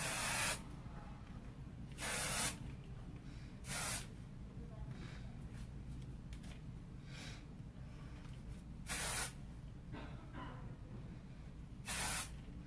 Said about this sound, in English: Same hairspray as usual.